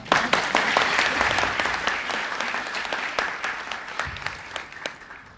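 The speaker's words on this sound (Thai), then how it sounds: "ตื่นเต้นขอเสียงปรบมือหนครับ" Audience applause from a crowd, dense and steady clapping filling the space for several seconds and slowly thinning toward the end, with no voices on top.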